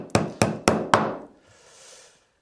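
A nylon-headed hammer strikes a leather trunk four times in an even rhythm, each blow a sharp, close, solid knock, followed by a short soft rustle.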